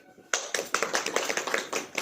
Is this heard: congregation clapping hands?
yes